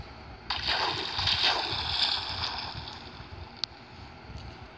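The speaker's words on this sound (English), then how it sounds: "I noticed the water is also moving, which is very nice" Moving water in the Minecraft video game, a splashing, rushing wash that swells in after a brief quiet start, with a sharp tick near the end and no talking over it.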